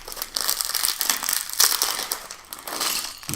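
Plastic bag holding Cobi building bricks being torn open by hand, a close, continuous crackling and crinkling of thin plastic that rises and falls in bursts without pause.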